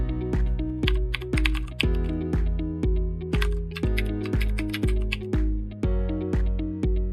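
A number is typed on a computer keyboard, with crisp, close keystrokes in quick, uneven bursts and short pauses, heard alone with no talking.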